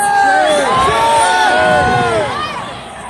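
A crowd at the March on Washington cheers and whoops loudly, many voices rising together in a sustained roar that eases off toward the end.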